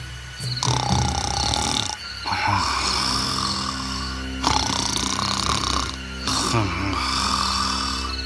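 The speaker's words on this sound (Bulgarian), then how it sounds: "О, някой хърка вътре." Dragon snoring inside a cave for a Bulgarian telling of the Reluctant Dragon fairy tale: loud, deep, rasping snore-like roars in four long sustained pulses with brief gaps, heavy and close, filling the whole stretch.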